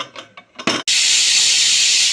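Steam bursts from a pressure cooker holding greens, loud and steady. A few short clicks and knocks come first, then a continuous close hiss with no voices.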